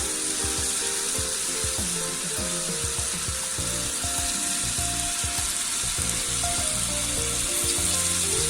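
Mutton kebabs for Hyderabadi pathar ka gosht fry in a non-stick pan with a steady, close sizzle that runs unbroken, and no voices over it.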